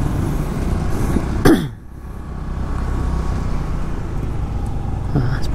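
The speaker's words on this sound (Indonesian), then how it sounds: "Truk sampahnya kita kasih lewat dulu ya teman-teman ya." A garbage truck rumbles past on a busy street in Bali, with a sharp knock partway through and steady traffic noise around it.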